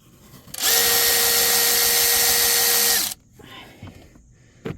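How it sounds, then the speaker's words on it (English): A Snap-on ratchet works on the front brakes and rotors of a truck, giving one loud, steady powered whir that lasts about two and a half seconds and then cuts off, leaving quiet workshop clatter. "Snap-on ratchet doing its job."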